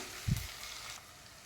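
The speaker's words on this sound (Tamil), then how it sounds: "ஆனியன் நல்லா வதங்கிடுச்சு" Chopped onions with salt sauté in a pan, giving a faint, steady sizzling hiss close by, with one brief soft thump of stirring near the start.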